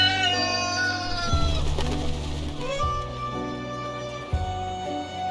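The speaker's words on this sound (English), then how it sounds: "This is Amu, my white rooster." A white rooster in Reverse 1999 gives a run of short clucks and warbling calls, fairly close, with a steady musical backdrop and no talking.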